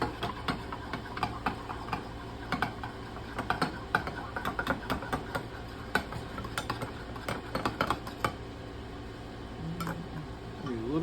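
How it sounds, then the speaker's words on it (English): Coloring being stirred into melted soft plastic heated to about 350 degrees for homemade buzzbait lures, with a rapid run of small clicks and taps against the pot over a low background hum. "We're just going to do a couple of swirls in there, stir it up"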